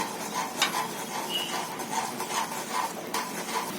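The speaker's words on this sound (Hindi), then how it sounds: "तो सूजी को हम यहाँ इस तरह थोड़ा थोड़ा डालेंगे और इसे चलाते जाएंगे।" Semolina stirred into boiling water for upma, with a spoon scraping and clinking steadily against the pot in a quiet, repeated rhythm.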